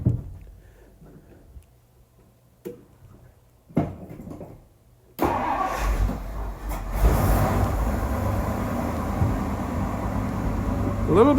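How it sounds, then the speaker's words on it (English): A barn-find 1959 Edsel idles with its newly fitted exhaust, a steady low rumble that starts abruptly after a few seconds of quiet clicks and handling noises, then holds at an even, moderately loud level close by. "let's see what it sounds like"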